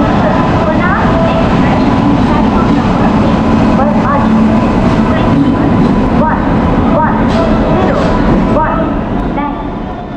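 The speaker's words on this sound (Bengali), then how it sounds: "একটু পরে ট্রেনটা ছেড়ে দিবে" Inside an Indian passenger train bound for Vijayawada, a loud, constant rumble of the carriage fills the space, with faint rail clatter and the murmur of people talking underneath.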